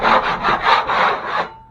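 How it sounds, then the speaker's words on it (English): A scraper drags across textured drywall in a bathroom patch repair, stripping the rough texture face before taping: five or six rhythmic, raspy strokes, close and fairly loud, ending in quiet. "I'm going to scrape all this before we tape it."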